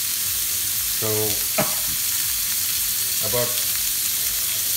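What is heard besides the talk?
beef shish kebabs sizzling while searing in the pan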